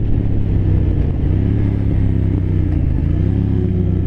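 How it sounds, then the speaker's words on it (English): A 2023 Triumph Thruxton RS Chrome Edition cafe racer accelerates hard, its engine droning loud and close with a steady, rising pull and no voices. "let's test out some acceleration here"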